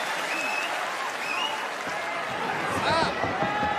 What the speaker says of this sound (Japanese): 大きな拍手が湧き上がります。